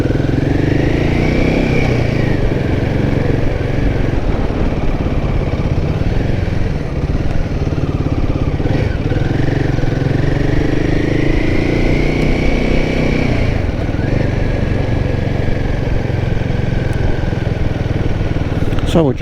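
A Royal Enfield Himalayan 450 motorcycle on a test ride keeps up a constant loud engine drone with wind rush, its pitch rising and falling smoothly through gear changes, with a rider talking over it at times.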